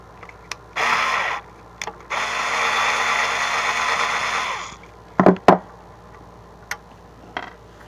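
Two buzzing bursts from a powered driver back out the pair of screws holding the transformer on a Carlin EZ-1 oil burner, each run lasting a few seconds, followed by a few sharp clicks and taps nearby.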